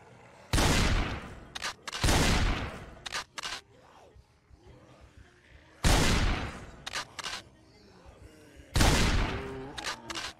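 Gunshots in the zombie survival game Project Zomboid come as four loud, sharp blasts spaced a few seconds apart, each trailed by quick smaller cracks. Quieter game sounds fill the gaps between them.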